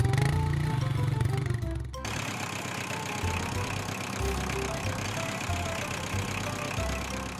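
A cartoon motorcycle engine ridden by a jackal, a steady mid-pitched idling drone that starts abruptly after a brief musical bit and runs loud and continuous with faint rhythmic knocking.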